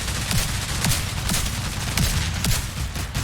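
Repeated gunfire from The Division 2, a dense, steady stream of shots with sharp bursts recurring roughly every half second over a continuous rumbling battle bed, loud and close.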